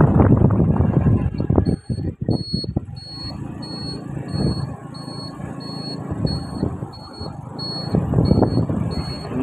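A road roller sounds steady, evenly spaced high reversing beeps while its engine rumbles along the road; someone speaks intermittently over it.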